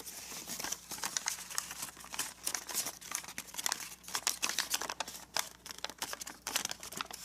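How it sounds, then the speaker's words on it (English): Paper crinkles and creases in quick, irregular bursts as a sheet is folded into an origami labyrinth, close and fairly quiet with dense crisp rustles throughout. "Let's fold it right to the corner"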